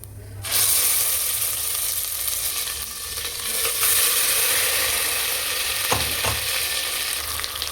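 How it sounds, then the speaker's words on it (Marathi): Ground masala paste (vatan) frying in hot oil with cumin seeds for Maharashtrian misal, a loud, steady close-up sizzle that runs throughout, with a couple of brief stirring clinks near the end. "तर वाटण हे आपण आता छान फ्राय करून घेणार आहोत."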